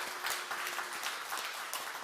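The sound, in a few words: audience applause at a Won Buddhist Sunday service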